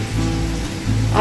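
Water poured into a cooking pan while making Bengali potol shahi kofta, a steady splashing gush that surges louder and brighter toward the end, with faint speech in the background.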